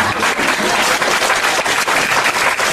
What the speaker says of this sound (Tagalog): Tuloy mo palakpak mo.